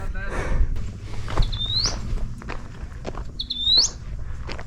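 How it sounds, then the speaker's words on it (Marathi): A small bird gives two thin, rising chirps a couple of seconds apart, heard over quiet outdoor background noise with some shuffling. "पक्षीचा आवाज येतो का व्यवस्थित एक पक्षी बसलाय"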